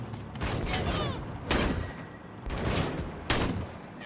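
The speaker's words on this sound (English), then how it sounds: "But our light machine turret does." A light machine turret fires in Wasteland 3, loosing several short bursts of rapid gunfire that alternate with brief lulls, loud and close.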